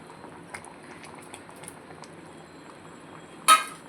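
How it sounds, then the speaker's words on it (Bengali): A sour curry of raw tamarind and hilsa roe bubbling in a pot, a faint steady simmer with soft pops, ending in a brief clatter as the lid is lifted. "ঢাকা খুলে দেখবো এই দেখুন কত সুন্দর জাল উঠে গেছে"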